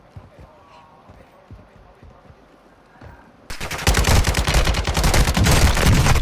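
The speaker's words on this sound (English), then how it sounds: "They're shooting at me." Rapid gunfire in the Call of Duty: Modern Warfare II Warzone video game, starting suddenly after a quieter stretch of faint footsteps and then hammering loud and dense with sharp repeated shots, close by.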